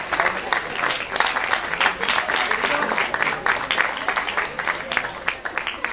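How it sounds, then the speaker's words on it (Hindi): Sustained crowd clapping fills the hall at an Uttarakhand science festival ceremony as a guest is honored, many hands beating in a thick, unbroken roar that holds steady throughout. "तालियां बजती रहे बलबीर सिंह जी के लिए।"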